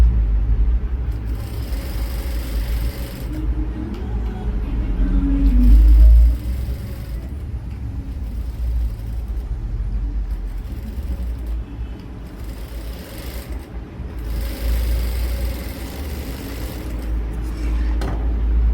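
A home boutique sewing machine stitches fabric seams with a steady, close mechanical whirr and rumble, briefly pausing and restarting several times.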